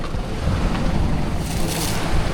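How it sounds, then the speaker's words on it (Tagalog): Strong ocean waves roll in at the shore at the northern tip of Aparri in the Philippines, a loud, continuous roar of surf mixed with heavy wind buffeting the microphone. "grabe yung alon dito, ang lakas"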